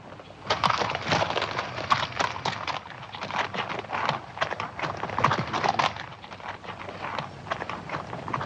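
Horses walking on a town street in a 1971 Western, their hooves clip-clopping in a steady, fairly close rhythm with scattered louder knocks over a busy background.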